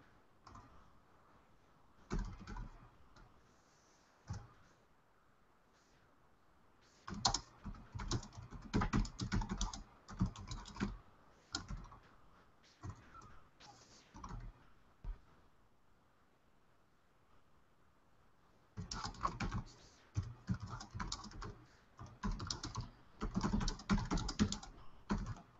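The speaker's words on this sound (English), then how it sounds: "I should be reading what I'm typing." Clattering keystrokes on a computer keyboard come in two long bursts of quick, uneven typing separated by a quieter pause with only sparse clicks, fairly close and without talk.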